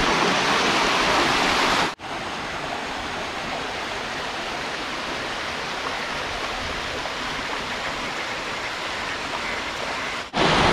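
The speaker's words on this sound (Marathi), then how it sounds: "हे जे वाहतं पाणी आहे ना त्या वाहत्या पाण्याच्या प्रेशरसोबत मच्छी अशी या बाजूला जाते सगळी" Mixed sea and rain water rushes through a fishing channel in a steady, loud, broadband roar of flowing water. The sound is continuous from start to finish, with no voices.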